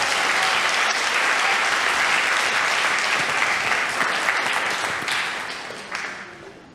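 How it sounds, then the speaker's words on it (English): A church congregation at a Sunday morning service gives loud, sustained applause for the helpers, a dense wash of many hands clapping that holds steady and then tapers off toward the end. "applause for our lovely helpers"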